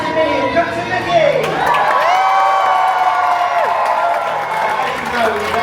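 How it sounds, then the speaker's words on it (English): A cruise ship audience aboard the Disney Magic breaks into loud, sustained cheering, whoops and applause, a dense crowd roar with children's shouts rising and falling throughout. "a big round of applause and a cheer for the captains of the Disney Magic"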